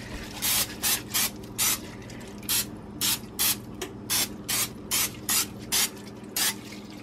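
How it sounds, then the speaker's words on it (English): Short hissing bursts of Pam cooking oil spray onto a pan, about a dozen in an even rhythm, close and loud with brief pauses between them. "I am gonna go ahead and spray it today just to make sure nothing sticks at the bottom."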